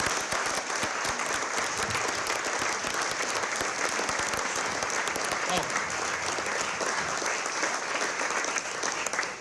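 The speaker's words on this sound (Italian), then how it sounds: "Facciamo un applauso a sti ragazzi." An audience applauds a group of students at a televised news event in Veneto, steady dense clapping that carries on throughout at close range.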